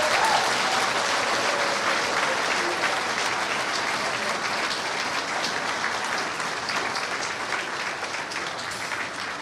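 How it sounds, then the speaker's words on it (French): An audience at the signing ceremony of Burkina Faso's transition charter applauds steadily in a dense wash of clapping that fades slightly toward the end, with a few faint voices mixed in. "Nous allons applaudir plus fort que ça, s'il vous plaît."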